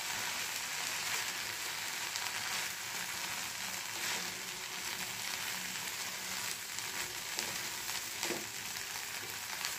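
Fried bread being stirred into a mix in a pan over a low flame, with a steady broadband sizzle and frying crackle running throughout and occasional scraping stirs.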